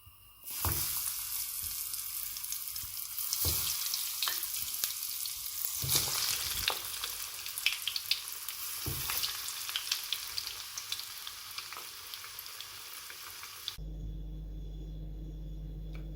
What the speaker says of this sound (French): Il ne vous reste plus qu'à les frire.